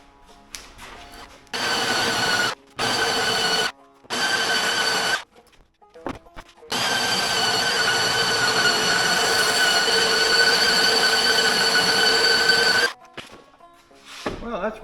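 A power sander working across a wooden table top in bursts: three short passes and then one long sustained run with a steady whirring buzz, close and fairly loud, with brief quiet gaps between passes.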